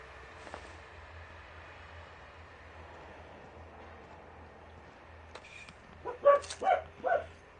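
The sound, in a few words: dogs barking in the video game The Outer Worlds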